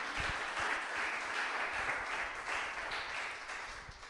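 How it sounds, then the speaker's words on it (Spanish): A church congregation applauds during a Spanish-language sermon, a broad sustained wash of many hands clapping that holds steady and then eases slightly toward the end. "Vamos a darle un aplauso fuerte al Señor"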